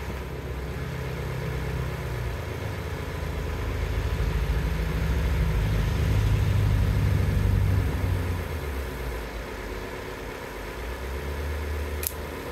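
A car engine idles with a low, steady rumble that swells slightly midway and then eases, continuous and close, with a brief sharp tick near the end.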